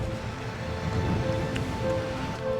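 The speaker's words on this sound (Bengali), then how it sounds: "জলের আওয়াজও পাওয়া যাচ্ছে" Steady rushing water noise, like a stream or runoff flowing nearby during monsoon rain in Lonavala, India, with a continuous broadband wash and a low rumble, no voices.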